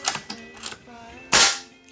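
A .22 caliber FX Wildcat Compact air rifle fires one sharp, loud shot near the end, after a quieter stretch of faint clicks and handling noise.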